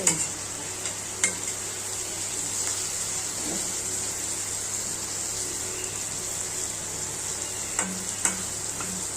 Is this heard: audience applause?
no